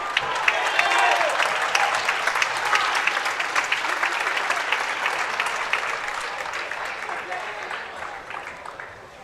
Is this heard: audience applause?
yes